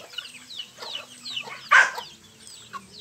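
Mixed-breed chickens, among them a naked-neck hen, cluck in a farmyard flock, with several soft, scattered clucks and one sharper, louder squawk close by.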